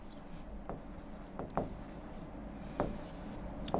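Marker or chalk strokes on a classroom board during a physics lecture on fluids: a few faint, brief scratches spaced out over a quiet room, the last one slightly louder.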